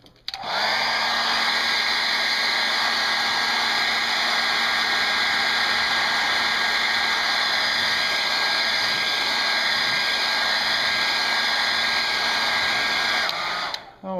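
Hair dryer blowing steadily on a watercolor forest painting, a loud continuous whoosh with a whining motor tone, running nearly uninterrupted from start to finish before clicking off.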